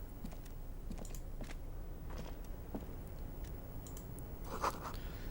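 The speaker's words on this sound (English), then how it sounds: "This is a Dewey typewriter." Dewey typewriter in the video game Disco Elysium, soft irregular key clacks tapping in a quick uneven rhythm, faint and alone over a quiet background hum.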